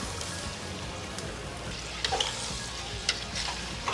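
Mutton fries in a pan with ginger and garlic, giving a steady close sizzle with occasional stirring clinks and small pops throughout.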